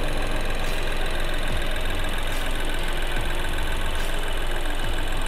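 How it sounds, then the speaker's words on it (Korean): A Chevrolet Trailblazer 1.3 turbo 4WD SUV engine idling with the hood open, a steady, even, loud mechanical hum with faint regular ticking, alone and unchanging throughout. "엔진 소리 일정하네요."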